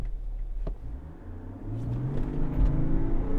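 A 2021 Chevrolet Tahoe Premier with a Duramax diesel launching in four-wheel drive high, its low engine rumble building into a rising, revving pull over a few seconds; no talking.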